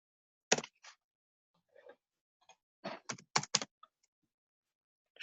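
Quick clattering keystrokes on a computer keyboard, clustered in short irregular bursts with gaps between, close and quiet in an otherwise silent room.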